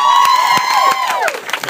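A comedy club crowd at The Comedy Attic in Bloomington lets out a loud burst of cheering, with a high woman's whoop rising over scattered claps and shouts that fade toward the end.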